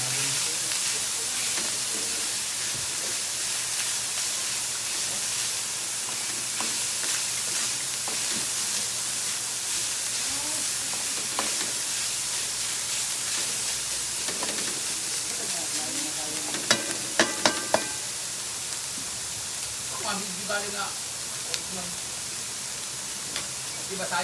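Potatoes fry in a pan with a steady soft sizzle and hiss, with occasional clinks of a utensil stirring and a voice talking at times.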